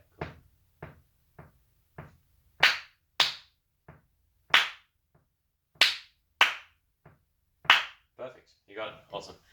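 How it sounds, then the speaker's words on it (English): Hands clap back a two-bar rhythm in a music exam's aural test: about a dozen crisp, close claps in an uneven pattern, some louder than others, followed by a little speech at the end. "you're going to clap it back to me"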